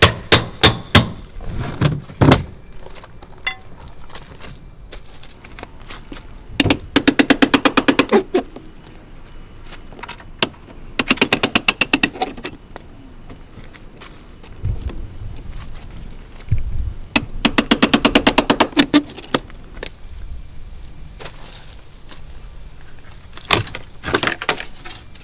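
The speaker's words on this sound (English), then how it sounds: "Use the nail puller." A nail puller prying off a rotten wood siding board gives several sharp bursts of cracking and scraping, spaced a few seconds apart, with quieter handling noise between them and no talking.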